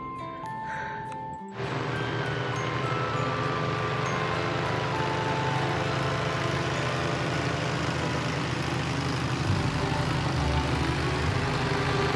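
A paramotor engine drones steadily over Vang Vieng, Laos, a continuous buzzing hum that starts abruptly and then holds level for ten seconds, fairly close and with no talk over it.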